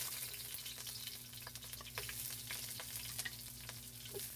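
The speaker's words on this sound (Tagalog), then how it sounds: "Ating i-toasted ng kaunti yung ating bawang." Garlic and onion toast in cooking oil in a pan for chicken adobo, producing a soft, even sizzle with light stirring scrapes, heard alone and fairly quiet.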